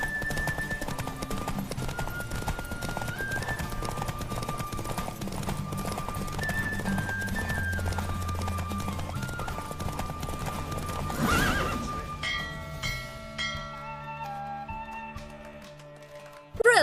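Continuous galloping hoofbeats pound along with occasional horse whinnies, set against steady electronic background music, from a horse race in The Witcher 3: Wild Hunt.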